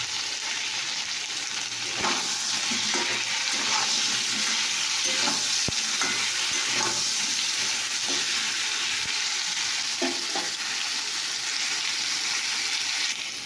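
Food sizzling steadily in a pan with turmeric, a continuous close crackling fry with periodic stirring scrapes and knocks over the length, no voices.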